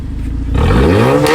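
A car with its muffler deleted revs hard up close, the engine note rising sharply from a lumpy idle into a loud, raw, rasping roar.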